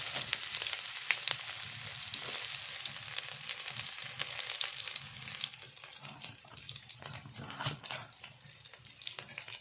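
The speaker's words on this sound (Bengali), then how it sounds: "শুকনো লঙ্কাগুলো একটু লাল লাল করে ভেজে নেব। ওর মধ্যে দেব ফোড়ন, 5 ফোড়ন, তার মধ্যে দেব কুচনো পেঁয়াজ" Dry red chillies, panch phoron and chopped onion frying in oil for a crab and spinach ghonto, a loud dense crackling sizzle that softens slightly in the second half, with occasional stirring clicks.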